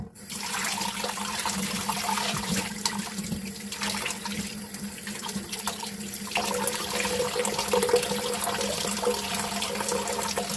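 Boiled spinach for Korean sigeumchi-namul is wrung out by hand, releasing a continuous splashing, running stream of water into a sink, loud and close throughout.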